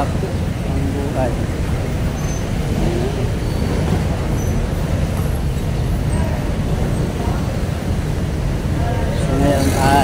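Dense road traffic in Barangay Santa Fe, Dasmariñas City, with cars, buses and trucks rumbling past and a brief hiss of air brakes. The din is loud and continuous, with a voice heard faintly beneath it.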